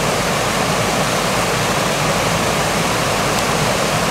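Water pours steadily over the weir at Great Alne, a dense, even roar of rushing flow heard close and alone, with no voices.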